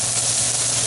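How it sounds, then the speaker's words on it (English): Shallots sizzling in a hot pan with mushrooms, a steady, loud, close frying hiss with no break and no voices. "We're going to add our 2 tablespoons of shallots. We will cook those just until they release some of their essence."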